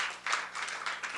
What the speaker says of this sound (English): a big round of applause for NetApp for hosting us